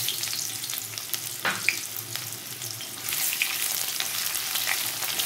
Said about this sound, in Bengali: আমি দিয়ে দেবো এখানে পেঁয়াজ কেটে রেখেছিলাম